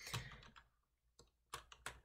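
Keystrokes on a computer keyboard typing a Shift-letter combination, several sharp clicks in short clusters with brief gaps, close and fairly quiet, no talking.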